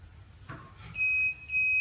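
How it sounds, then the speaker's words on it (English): Steady high electronic beeps from a sublimation heat press signalling ready start partway through, two long tones with a brief gap, over faint background noise. "It'll go back to its ready beeping."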